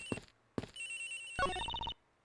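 A cell phone ringtone in the Ace Attorney Investigations: Miles Edgeworth video game sounds as a loud, bright electronic melody, starting with two short bursts and then a sustained ringing phrase, with no talk over it.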